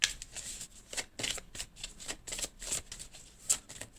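Tarot cards shuffled by hand at close range, a run of quick papery riffles and flicks in irregular bursts, with no voice heard.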